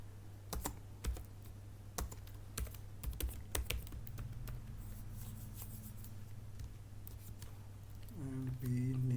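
Light, scattered typing on a computer keyboard, quick clusters of key clicks over a steady low hum, fairly quiet and close.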